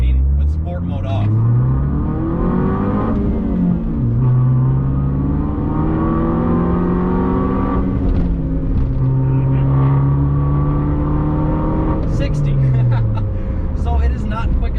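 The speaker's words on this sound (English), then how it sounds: "So here is accelerating with sport mode off." A Fiat 500 Abarth accelerating with sport mode off, its engine note climbing steadily in pitch, then dropping at each gear change, in three or four loud, sustained pulls across the run.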